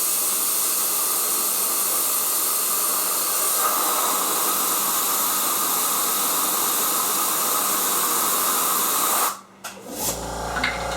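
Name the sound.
compressed air blowing on cocobolo bowl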